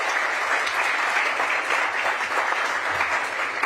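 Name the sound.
audience applause at a news conference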